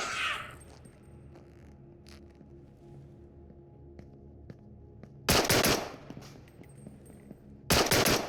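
Two loud, short bursts of automatic gunfire crack out in the Into the Radius game, separated by a few seconds of quiet with faint ambient hum and small scattered clicks.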